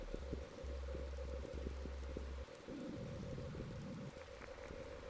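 Steady rainfall, a constant dense hiss with soft patter and occasional low rumbles, heard alone without any voices.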